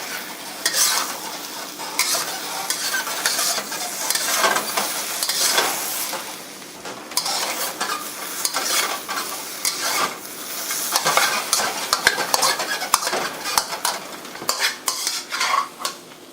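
Scrambled eggs with Chinese sausage and onions being stir-fried: a utensil scrapes and clatters steadily against the pan over a constant sizzle, close and busy throughout, with no talking.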